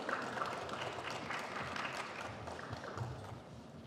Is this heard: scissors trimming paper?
no